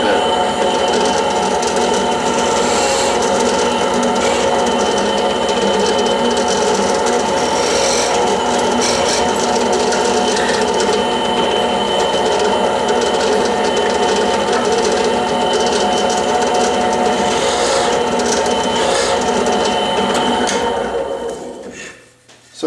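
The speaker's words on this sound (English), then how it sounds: "on my little drill press, I'll just kind of countersink the hole a little bit." A small drill press hums with a steady, tonal whir while countersinking a hole in wood, running continuously and fairly loud for about twenty seconds before spinning down and stopping near the end.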